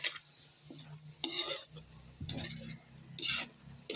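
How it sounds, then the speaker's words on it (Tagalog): A spatula stirs dinuguan (pork blood stew) seasoned with soy sauce in a sizzling pan. Four distinct scraping strokes rise above a quiet, steady sizzle. "Halo-halo lang natin konti mga lods."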